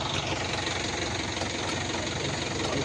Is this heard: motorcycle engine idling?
yes